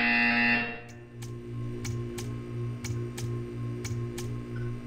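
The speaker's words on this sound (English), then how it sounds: "When you hear the buzzer, stare at the art." A harsh buzzer sounds in the Portal 2 video game, a loud tonal blare for about half a second, followed by a repeating soft pulsing hum with regular faint clicks in a quiet room.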